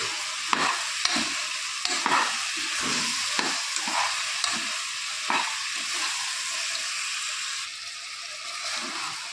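Sweet corn frying in a pan for sweet corn rice, a soft continuous sizzle broken by repeated scraping stirs of a spatula, close and without voices.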